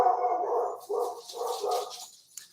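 Several dogs barking in quick bursts close by, three or four loud volleys with short gaps between them, followed by a faint yip near the end.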